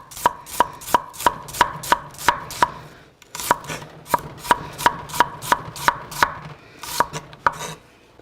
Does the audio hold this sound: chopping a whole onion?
yes